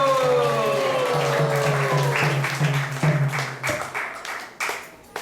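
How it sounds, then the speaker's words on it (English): Applause from a temple congregation at a Sunday Snan Yatra festival at the ISKCON Atlanta temple, with chanting voices sustained underneath and scattered clapping that thins out toward the end. "let's give a big round of applause for them by chanting Hari Bol"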